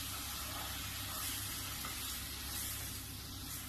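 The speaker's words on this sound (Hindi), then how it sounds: "ये अबाउट 1/4 कप है जो मैं इसमें ऐड कर रही हूँ आराम आराम से" Chicken stock, about a quarter cup, trickles slowly into a hot pan, giving a steady broad sizzle and hiss that holds evenly throughout, close and alone with no talk.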